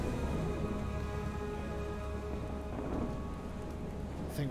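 Steady rain and a low rumble of thunder fill a storm at sea in the video game Far: Changing Tides, a continuous wash of sound with a brief brighter burst near the end and no voices.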